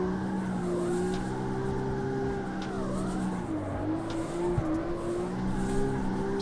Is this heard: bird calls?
no